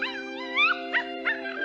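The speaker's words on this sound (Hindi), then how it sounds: "अभी मैंने एक डॉग की आवाज सुनी।" A cartoon dog lets out short, wavering howls and yips in a few quick bursts over a steady background tone, fairly close and moderately loud.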